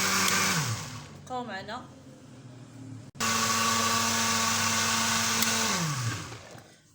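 A blender grinds a cake mixture in loud, steady bursts, first running, then pausing briefly while a voice speaks, then whirring again for several seconds before winding down.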